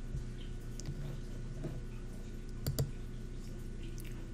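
Computer mouse clicking a share button in Google Apps, a couple of sharp, close clicks near the end over a quiet room hum, with a few fainter ticks earlier.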